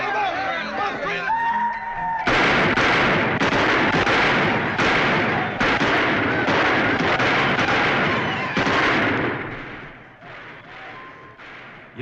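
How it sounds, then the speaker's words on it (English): Repeated gunshots crack outdoors in an Old West town as an outlaw's birthday celebration turns rowdy in a 1950s-style TV western. A brief stretch of voices comes first, then a dense, loud run of overlapping shots that thins out near the end. "You going to do anything about those guns out there?"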